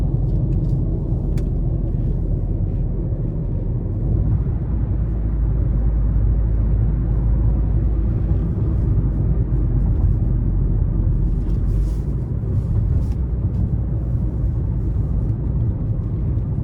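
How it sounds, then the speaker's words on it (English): Steady low road rumble and wind noise inside a 2025 Hyundai Kona Limited 1.6T cruising at 70 mph on a rough stretch of interstate, a continuous broadband drone with no talking. "Road noise, you can hear it a little bit, but this stretch of the interstate is pretty rough anyway"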